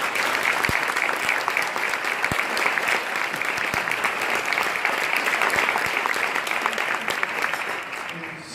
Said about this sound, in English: let's give this combined group a round of applause